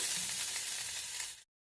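Salted spices fry in a pan under a constant bright, close sizzle with faint stirring movement, cutting off abruptly after about a second and a half.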